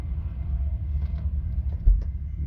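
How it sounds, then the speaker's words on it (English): An Amazon Peterbilt truck rolls past on the I-84 highway as a low, steady rumble at moderate distance, with faint intermittent clanks over the drone. "looks like an Amazon truck's rolling through."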